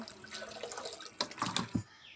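Water is tipped and poured out of a container holding catfish: a soft running trickle, then a few sharp splashes and drips close by near the end, with no talking.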